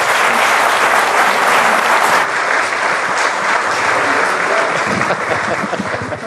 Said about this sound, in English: let's give the Prime Minister a very, very warm round of applause